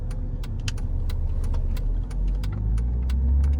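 Rumbling engine note of a Mercedes S600 twin turbo V12 with a misfire, rising as the car pulls away and accelerates, heard from inside the cabin along with light rattling and clicking from within.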